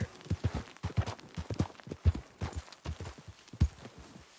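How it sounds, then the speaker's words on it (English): Horse hooves clip-clop in Red Dead Redemption 2, an even walking rhythm of close, distinct hoof strikes with no talk over them. "Just admiring your horse there."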